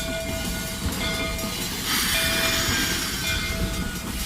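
A steam locomotive rumbles steadily past at close range at a railway museum in Illinois, a constant loud mechanical roar with a brief surge of hissing in the middle.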